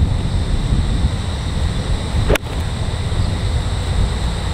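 Steady wind buffets the microphone with a constant low rumble throughout on a golf course, broken by one sharp click near the middle.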